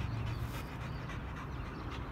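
A dog panting quickly and steadily close by, a soft continuous breathy rhythm with no talking over it.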